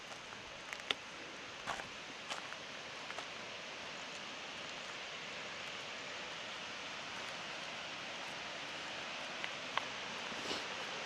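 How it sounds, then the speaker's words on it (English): South Harper Creek Falls pours into a box canyon, a steady, soft, distant rush of falling water with a few faint footsteps and clicks on top. "Beautiful waterfall here."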